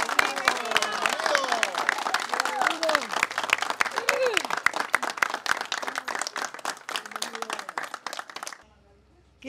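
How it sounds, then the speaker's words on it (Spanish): Loud crowd applause with dense clapping at an outdoor event with a live corrido singer, mixed with cheering voices and talk, running steadily for about eight seconds before cutting off abruptly. "Fuerte el aplauso"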